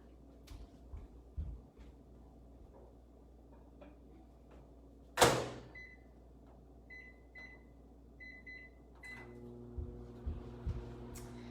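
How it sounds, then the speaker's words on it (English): A microwave oven cooking jasmine rice in a steamer: a door thuds shut, several short button beeps follow, then a low steady running hum, all fairly quiet. "all I'm gonna do is pop this into the microwave."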